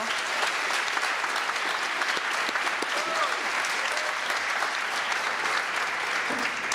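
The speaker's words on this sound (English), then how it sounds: "can we get a round of applause for Foster Lane and Desiree Simpson for their performances on the" An audience at an evening reception for young authors and artists applauds performers: sustained, even applause from a sizeable crowd, moderately distant and continuous throughout, with faint voices mixed in.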